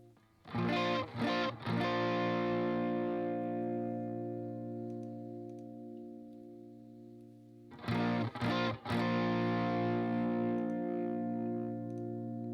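An electric guitar runs through stacked Timmy and Klon overdrive pedals, giving two loud strummed chords, each with quick rhythmic strikes followed by a long, slowly fading overdriven sustain.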